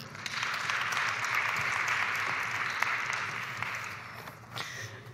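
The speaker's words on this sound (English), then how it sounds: "please ask you at this point to give them a very warm round of applause" An audience at a leadership and gender-equality conference session applauds a panel, a sustained, even wash of many clapping hands from a crowd that holds steady for seconds and then slowly thins out.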